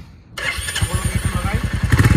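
A kickless bike, an older second-hand motorcycle, is started by its electric starter: a short burst of cranking, then the engine catches and settles into a steady, rhythmic idle close by, with a person talking over it.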